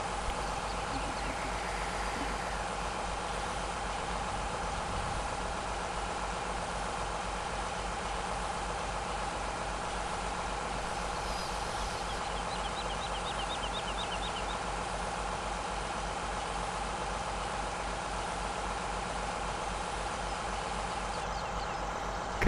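A combine harvester engine idles in Farming Simulator 17 with a steady, low, continuous drone and faint mechanical hum, unchanging throughout, with no talking.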